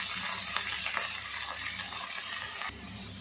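Ponnakanni greens sautéing in a pan, with a steady broadband sizzle and frying hiss that runs throughout, plus faint stirring scrapes and no voices.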